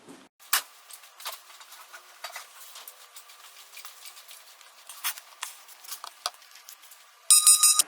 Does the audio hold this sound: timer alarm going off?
yes